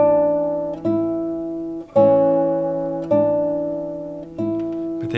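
A plucked classical guitar plays a few slow, simple chords and notes from Satie's Gymnopédie, each struck clearly and left ringing before the next.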